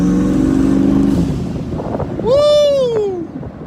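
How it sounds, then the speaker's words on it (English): Turbocharged LS-powered El Camino: a loud, close engine rumble with a sharp whooshing, descending blow-off valve release as the throttle lifts, the engine tone sliding down afterward. "I love the blow-off valve"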